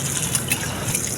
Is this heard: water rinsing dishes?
yes